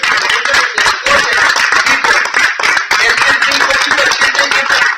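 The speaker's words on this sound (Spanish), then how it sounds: "Denle un aplauso al Señor." A church congregation claps and applauds in praise of the Lord, dense steady clapping filling the whole stretch at close range, with no voices standing out.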